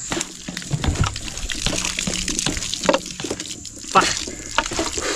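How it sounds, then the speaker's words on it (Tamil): Water gushes in uneven spurts from a hand-operated borewell pump with no motor, splashing steadily up close while someone talks over it. "நான் இங்கே ப்ரெஸ் பண்ண விட்டுட்டேன்னா தண்ணி வந்து ஸ்டாப் ஆகிடும்"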